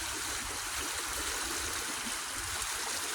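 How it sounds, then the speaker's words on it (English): Coldwater Creek runs after a misty morning rain, a soft, steady burble and rush of flowing water that stays faint and even with no one speaking. "You're looking at Coldwater Creek after a misty rain morning."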